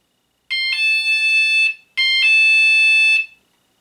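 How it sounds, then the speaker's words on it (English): A motion-activated auto dialer's electronic chime alert sounds twice, each a bright sustained multi-tone beep of about a second, loud and clear against silence. "then it's going to beep just like this."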